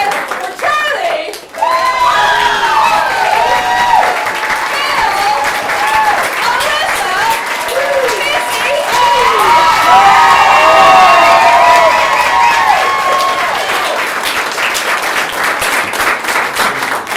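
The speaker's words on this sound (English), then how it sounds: "Give it up one more time. Keep it going for Charlie." An improv show audience applauds and cheers for the performers in loud, sustained clapping mixed with whoops and shouts, and a voice calls out over the crowd.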